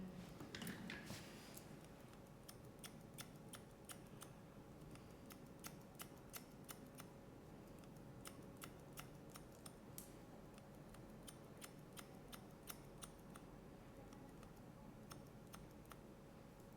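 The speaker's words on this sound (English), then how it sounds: "These scissors are making light work of very, very thick hair." Scissors snip through very thick hair during a pixie cut, producing a long run of quiet, crisp clicks in irregular bursts at close range with no talking.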